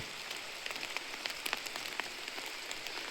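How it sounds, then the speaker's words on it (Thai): Light drizzle patters steadily on surfaces around a garden house in the forest, a dense close hiss flecked with individual drops and no voices. "ฝนตกโปรยๆนี่แหละบรรยากาศที่คนเคย"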